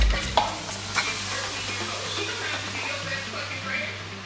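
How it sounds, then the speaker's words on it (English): Chopped onion fries in hot palm oil for an efo riro stew, giving a continuous soft sizzle with a couple of sharp stirring knocks early on and a faint voice underneath. "let the palm oil and onion fry for like 2 minutes"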